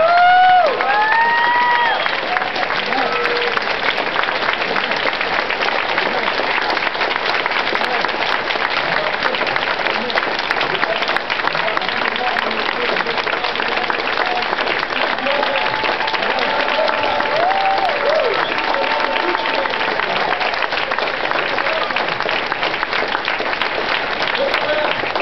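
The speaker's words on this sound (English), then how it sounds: "Give her another round of applause." A large conference audience at a Green For All gathering applauds, dense steady clapping that fills the room throughout, loud and close, with occasional cheers and a voice briefly rising over it.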